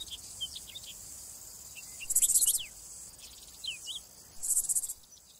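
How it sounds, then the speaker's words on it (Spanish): Grasshoppers stridulate in sunlit Mediterranean scrubland of pines and shrubs, a steady high-pitched buzzing with two louder bursts of rapid chirps, alone in the open air. "En especial, los saltamontes."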